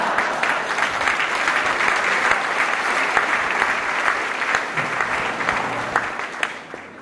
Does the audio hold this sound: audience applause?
yes